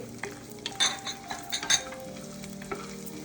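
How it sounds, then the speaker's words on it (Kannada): Curry leaves fry in a pan with roasted coconut or cashews for khara puri, giving a close sizzle broken by a few sharp stirring clinks and scrapes of a utensil, with no one speaking. "ಈಗ ಕರಿಬೇವು ಹಾಕ್ತಾ ಇದ್ದೀನಿ. ಇದು ಸಹ ಚೆನ್ನಾಗಿ ಫ್ರೈ ಆಗಬೇಕು."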